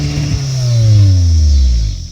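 A 2016 Kia Optima Limited Turbo SXL engine revs through its dual exhaust, a loud, close, rising drone with a smooth climbing tone that swells then eases off over about two seconds, with no talk.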